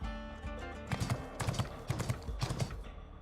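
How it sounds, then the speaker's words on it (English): Mechanical horse hooves galloping in the NIKKE video game, a rhythmic clip-clop of paired hoof strikes repeating steadily over a sustained musical drone, moderately loud with no talk. "What is that? Sounds like horse hooves."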